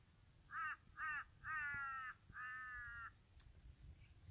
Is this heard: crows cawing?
yes